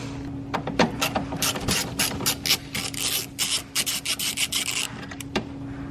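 Ratchet working on 8mm bolts under a BMW E82 with an N55 engine, a run of quick metallic clicks and rasping bursts that come in rapid uneven spurts, close and fairly loud, with no talking.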